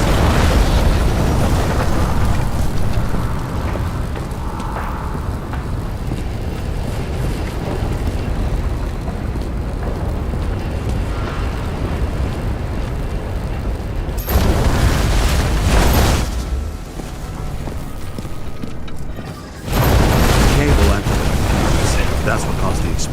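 Loud explosions in the video game Nobody Wants To Die, a sustained rumbling roar with two sharp bursts near the end, all at close, heavy volume.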